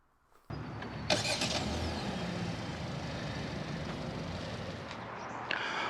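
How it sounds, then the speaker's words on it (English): Remote start of a 2021 Kia K5 LX-S from the key fob: a short starter crank, then the engine catches and settles into a steady idle heard close and alone. "then press and hold the remote start button"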